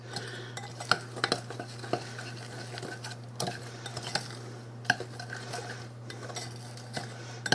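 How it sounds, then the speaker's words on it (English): A spoon stirring half a cup of milk into muffin mix, rhythmic close clinks and scrapes against the bowl roughly every half second over a low steady hum, with no talking. "I'm going to stir that 1/2 cup of milk in this muffin mix."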